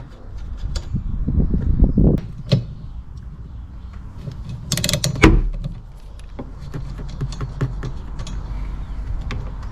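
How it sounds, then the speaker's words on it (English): A 13mm nut on a rusty Jeep Grand Cherokee WK wiper arm is worked loose with a tool, giving close metallic clicks, ratcheting ticks and a louder scraping burst midway, with no speech. "So this 13mm nut needs to be loosened and removed."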